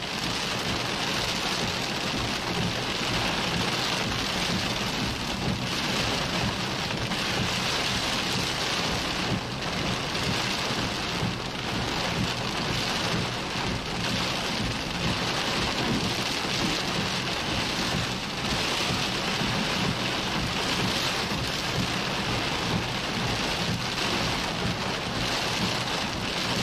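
A Texas thunderstorm gives steady, loud, dense rain that holds throughout, with low rumbles of thunder blended into the downpour.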